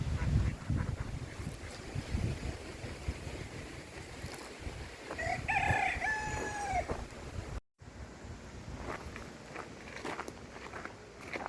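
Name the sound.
chickens crowing and ducklings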